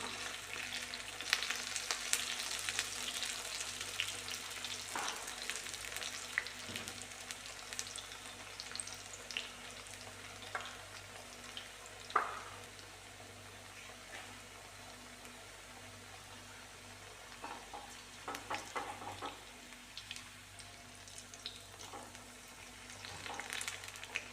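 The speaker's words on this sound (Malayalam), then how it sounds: "അങ്ങനെ ഒന്ന് നമുക്ക് എണ്ണയിലിട്ടിട്ട് ഫ്രൈ ചെയ്തെടുക്കാം" Eggplant slices frying in oil over a low flame, giving a soft, continuous crackling sizzle, quiet and close, with occasional faint clicks of a utensil and no voices.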